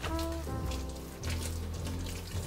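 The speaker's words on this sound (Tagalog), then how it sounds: "So huhugasan ko lang siyang ganyan to stop the cooking." Cooked pasta is rinsed under a running kitchen tap, giving a steady, close rush of splashing water that runs unbroken for the whole stretch.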